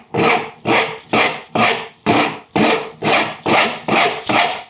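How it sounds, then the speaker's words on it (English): A coarse rasp files the curved edge of a piece of wood in about ten steady, aggressive strokes, each a loud, close scraping rasp separated by brief pauses. "coarse rasp"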